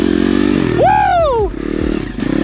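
A budget dirt bike engine revs up sharply during a wheelie, its pitch climbing then dropping as the throttle eases, loud and close over a rough idle putter.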